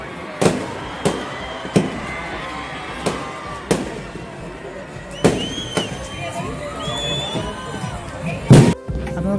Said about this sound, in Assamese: চব পূৰা ফটকা ফুটাইছে